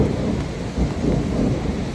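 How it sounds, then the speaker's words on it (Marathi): Steady, dense rain noise fills the whole stretch, a heavy downpour with a low rumbling undertone and no voices. "हे बघा एवढा पाऊस पाऊस चालू झाला"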